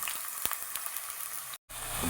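Chopped onion frying in a few spoons of hot oil for a spiced mutton brain fry, a steady close sizzle with scattered crackles and stirring clicks, cut by a brief silent gap near the end.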